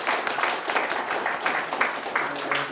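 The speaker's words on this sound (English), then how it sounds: "Big applause for Honza" Audience applause after a conference talk at a PragueJS meetup, a steady wash of many hands clapping with rhythmic bursts throughout, fairly close and moderately loud, with no voices over it.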